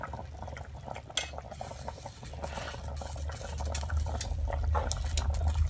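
Tuna braising in a pot over a wood-fired stove, a steady close bubbling simmer with small pops and crackles that grows gradually louder and denser throughout.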